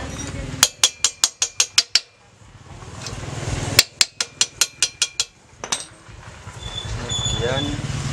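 A hammer strikes repeatedly on a motorcycle wheel during an inner tube change, two quick rhythmic bursts of about eight sharp metallic blows each, then a few more, with people talking in between.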